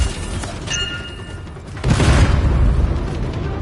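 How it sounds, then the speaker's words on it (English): A heavy detonation booms in a video game scene at a foundry, a deep rumbling blast that swells and lingers after a brief mechanical clatter, loud and close with no talk. "Shields down, but I think the explosion destabilized the foundry."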